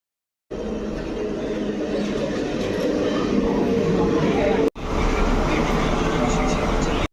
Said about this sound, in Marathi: आता मी पोचलोय उमरोळी स्टेशनवर